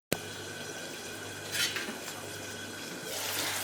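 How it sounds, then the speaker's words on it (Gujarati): Tindora (ivy gourd) curry is stirred in a pan with soft, faint scraping and clinking. The strokes come close together and run low under a steady hiss. "તો હવે આપણે હલાવી લઈશું"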